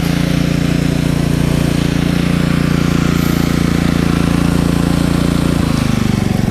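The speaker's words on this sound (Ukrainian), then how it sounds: "Ось у нас перейшов режим низьких оборотів, витрачає менше палива і очікує на навантаження." A KEMAGE KM5000io inverter generator runs at low idle, a loud, steady droning hum with a constant engine tone that shifts slightly near the end.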